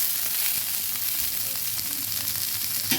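Bitter gourd and potato frying crisp in oil, a constant close crackling sizzle with light stirring scrapes throughout.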